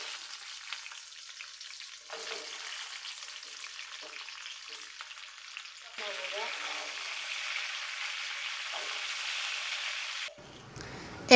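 Chopped raw mango and minced garlic sizzle in hot oil in a frying pan, a steady hiss that swells louder partway through and is briefly stirred, with no talking over it.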